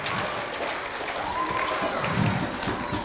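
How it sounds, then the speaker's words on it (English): A school audience of children applauds a science show presentation: continuous, dense clapping from a crowd, steady and fairly loud throughout, with faint voices mixed in. "Can you give yourselves a round of applause, please?"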